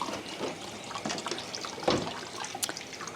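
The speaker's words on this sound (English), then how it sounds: "I'm gonna put this in the sink. Wash my hands." Water runs from a kitchen sink tap while hands are washed, with soft splashing and trickling, close but quiet and irregular.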